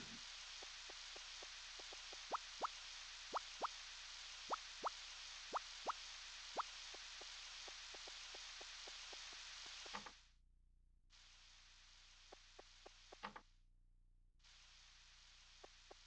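Rain in the Harvest Moon 64 farming game, a steady synthetic hiss with scattered plopping drops, cutting out briefly twice before resuming.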